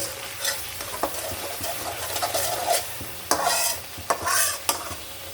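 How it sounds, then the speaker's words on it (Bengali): Spice paste with garlic being stirred and sautéed in a pan for a chicken curry, a constant close sizzle broken by repeated scraping strokes of a spoon and sharp clacks against the metal. "এটা আমি ভালো করে কষিয়ে নিব মশলাটা ভালো করে কষালে ভালো স্মেল আসে"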